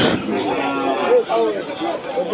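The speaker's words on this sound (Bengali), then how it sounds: "এখানে একটা হাড্ডিসার গরু দেখতে পাচ্ছি।" A cow moos loudly and close by at the busy Kaitla cattle market, one drawn-out bellow with a few shorter follow-up lows, while market chatter and other voices carry on around it.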